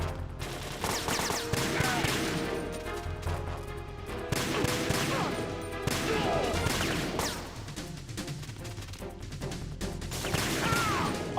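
Gunfire in Metal Gear Solid 2 crackles in repeated bursts and scattered shots over a busy game soundtrack, with impacts and smashing as lights are shot out, dense and continuous throughout.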